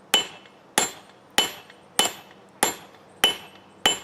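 Steady hammering on a hot Damascus steel forge weld: seven loud, ringing metal-on-metal blows in a regular rhythm roughly every 0.6 seconds, close to the listener and with no speech.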